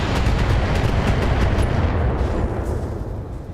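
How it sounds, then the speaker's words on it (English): Missile barrage explosions in the BattleTech video game, a dense, continuous roar of overlapping blasts that stays loud for the whole stretch and eases off slightly near the end. "A lot of missiles."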